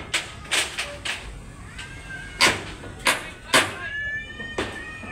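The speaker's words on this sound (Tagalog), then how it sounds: "Ayan, may pusa nag-aaway." Cats fighting outdoors, with a series of sharp yowls and caterwauling cries in short bursts, some drawn-out wailing meows between them, fairly close and loud.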